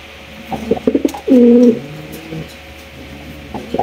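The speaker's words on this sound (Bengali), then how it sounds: "এখানে রয়েছে একটা রেসার কবুতর" Racing pigeons coo up close in a few soft, throaty rolling calls, one longer burst standing out among shorter murmurs over quiet background noise, with no talking.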